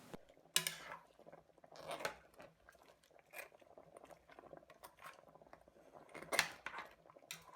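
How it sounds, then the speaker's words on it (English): A spoon stirring catfish pepper soup gently in a pot, with soft bubbling, scattered scrapes and clinks of metal against the pot, and quiet, uneven sounds close by. "Then I stir gently."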